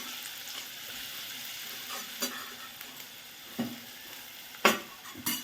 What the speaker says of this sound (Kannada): ಹೆಚ್ಚಿರೋ ಈರುಳ್ಳಿ ಹಾಕಬೇಕು